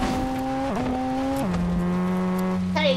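A McLaren car in Fortnite driving with a loud, close engine whine that dips and shifts pitch through gear changes, ending with a brief rising squeal.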